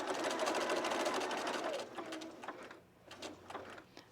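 A sewing machine stitches a dress seam, running steadily for about two seconds and then slowing to short bursts of needle action, close and moderately loud.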